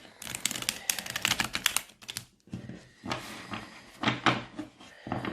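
Close, crisp bursts of riffling and clicking as a Gilded Tarot deck is shuffled in uneven clusters, separated by brief pauses.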